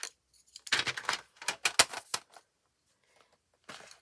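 Metal pencils clatter and rattle in a small metal tin, a quick series of light clinks and scrapes close up, then a brief pause and another rattle.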